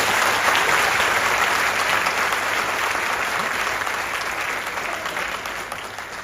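Audience clapping at a Modicare network marketing meeting in Varanasi, a loud continuous wash of many hands from a large indoor crowd, sustained and slowly fading toward the end.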